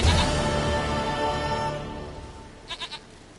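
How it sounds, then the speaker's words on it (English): Goat bleats in The Witcher 3, a sustained bleat across the first second and a half, then three short rapid bleats near the end, with no talking. "Goat of mine, dearest,"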